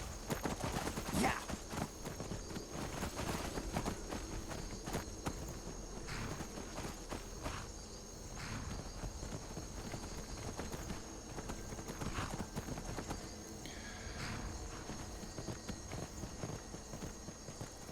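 Horse hooves clip-clopping in a video game, repeated footfalls at a steady pace with some faint gunfire-like bursts in the background.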